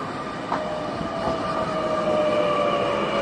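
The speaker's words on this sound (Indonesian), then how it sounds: "ini keretanya udah datang." A train rolls into a station in Japan with a steady loud rumble, sustained tonal wheel squeal and a rising mechanical drone, heard nearby without talking.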